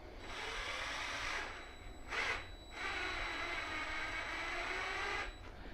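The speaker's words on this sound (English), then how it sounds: "you're going to use the drill to tighten instead of using the arms" Power drill driving a fastener to compress the sheet metal of a car door skin, a steady whirring motor drone with a brief pause and burst in the middle, close and alone.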